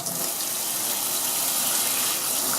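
Water runs steadily from newly installed home plumbing, a loud, even rush with no pauses and no voices.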